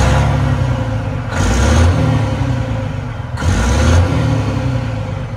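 A 14-liter Detroit diesel truck engine runs close up with a heavy, steady low rumble, swelling twice into brief louder revs before settling back to idle.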